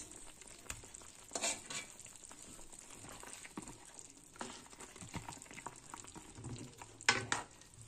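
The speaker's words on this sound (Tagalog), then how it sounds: "Lagyan na natin yung patatas." Potatoes go into a pot of cooking food, giving soft sizzling and stirring with a few brief louder splashes and clatters, quiet and close, with no talking.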